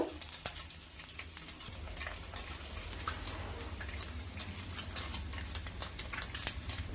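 Sago pearls for a crispy sabu snack fry in hot oil, giving a soft, steady bubbling sizzle with small crackles, fairly quiet and close, with no talking.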